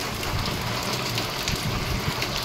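Steady rain falls outdoors at a grounds in Mumbai during monsoon season, a dense continuous hiss with soft scattered drops, close and even throughout with no voices.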